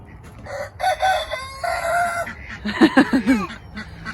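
A rooster crows loudly nearby on a farm in a long drawn-out call, followed by a second bird's crowing and clucking as the first call fades.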